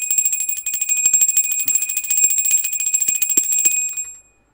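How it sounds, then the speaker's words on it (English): Small cleansing bells ring continuously and loudly up close, a bright sustained shimmer of overlapping high tones with quick repeated strikes that stop abruptly near the end, with no talking. "Lots of lovely cleansing bells."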